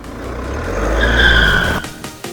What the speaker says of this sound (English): I really want to see how this drives around.